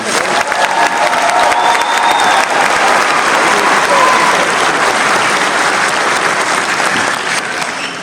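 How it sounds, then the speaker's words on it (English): Graduation ceremony crowd in Battle Creek, Michigan gives a sustained round of applause, a thick, even wash of clapping with some cheering, loud and continuous from start to finish. "give me one more round of applause for Reverend"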